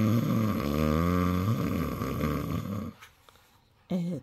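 A person reading a children's picture book aloud imitates loud snoring with the voice, a long drawn rasping snore that fades, then a short second snort near the end.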